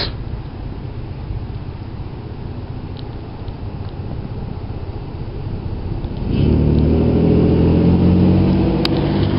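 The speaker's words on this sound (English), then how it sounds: "Sorry, yeah, car's going by." A car drives past on a road outdoors, a steady engine and tire rumble that swells louder near the end as it comes close, with no talking.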